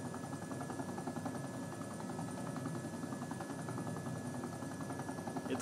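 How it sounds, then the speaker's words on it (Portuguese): A Marine Black Hawk helicopter comes in to land in the military game ARMA 2, its rotor a steady, even droning chop that stays moderately loud and unbroken throughout. "Esse é o Black Hawk do Marines."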